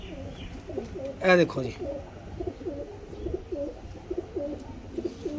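A white-eyed breeder pigeon pair coos in a loft, the low rolling calls repeating in a steady rhythm close by, with someone briefly speaking partway through.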